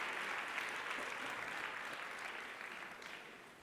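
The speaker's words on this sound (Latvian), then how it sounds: "Aplausi!" Sustained applause from a conference audience, a dense steady clatter of many hands that fades slightly toward the end, with no voices on top.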